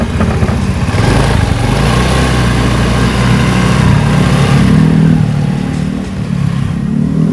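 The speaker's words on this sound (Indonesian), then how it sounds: "Nyala ini udah mesinnya, kita coba dengerin ya" A used Honda Vario scooter engine runs at the roadside, a loud continuous buzzing putter with slight rises in revs and a faint clatter throughout.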